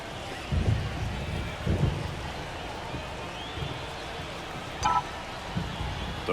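Steady rain during a baseball game at Citi Field in MLB The Show 24, a soft constant wash with a few low rumbles and a faint voice now and then.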